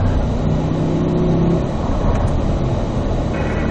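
A Corvette at full throttle down a hill on a racetrack, the engine roaring loud and sustained from close by, with a steady drone and a slight pitch shift partway through.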